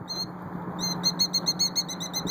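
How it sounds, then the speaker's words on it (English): A nesting bird on a rooftop calls in alarm while defending its nest, with a brief call followed by a rapid series of repeated sharp, high chirps, close and fairly loud over faint background noise. "Stared down by a bird."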